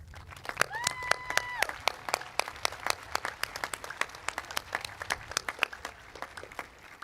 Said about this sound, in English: Now let's express our appreciation with a round of applause.